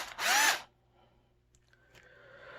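A power drill unscrewing a screw, one short high whirring burst up close, then quiet handling clicks and faint rattles.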